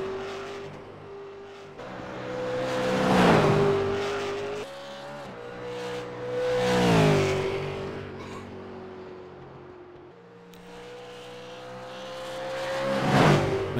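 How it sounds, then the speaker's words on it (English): Race car on the Mount Panorama circuit at Bathurst heading out for a qualifying shootout lap, its engine revving and surging through repeated rising gear pulls, loud and close, with sustained tonal engine drone throughout. "as we see Mikhail head out on the track for his showdown lap."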